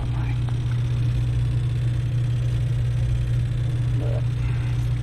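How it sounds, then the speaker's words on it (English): An HVAC reheat valve makes a loud, steady rumbling racket with a strong low hum, continuous and close, with no breaks. "So that's the reheat valve making that racket."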